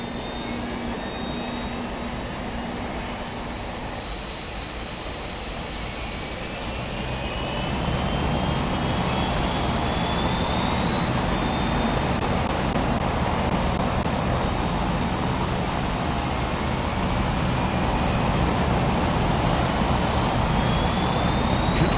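A jet airliner's engines roar steadily during pushback in an air traffic control game, a loud, constant wash that swells slightly partway through; no voices.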